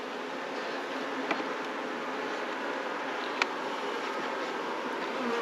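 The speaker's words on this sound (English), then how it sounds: "So you can see the box is actually full with bees." Bees crowd a full nucleus hive box, every frame packed, and give a dense, continuous buzzing hum. It stays close and steady, with a couple of faint knocks and no voices.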